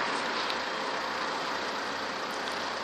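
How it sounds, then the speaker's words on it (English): An old-shape Subaru Legacy Outback with a 2-litre diesel engine runs steadily, a constant broadband hum with little variation and no speech. "Here we have the old shape Subaru Legacy Outback with a 2-litre diesel"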